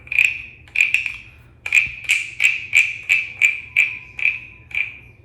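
A carved wooden frog souvenir is rasped along its ridged back, giving about eleven sharp, close croaking rasps at a steady, slightly quickening rhythm, each a bright scraping burst with short gaps between.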